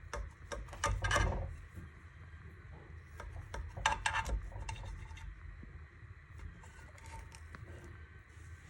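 A knife cuts through a homemade cocoa sponge cake, giving soft scraping, rubbing and tapping against a plate or board in quiet close-up, with faint kitchen clatter.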